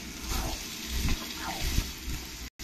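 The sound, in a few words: water added and stirred into frying soybean and mushroom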